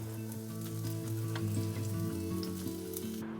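Garlic and ginger sizzling in chili oil in a pan over medium heat, a steady close crackle and hiss that continues without a break, with no voices.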